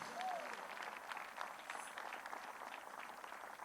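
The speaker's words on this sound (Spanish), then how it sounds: "Puede darle un aplauso al Señor por eso." Congregation applauding at a Spanish-language church service, steady broadband clapping sustained for several seconds at moderate distance, with faint voices mixed underneath.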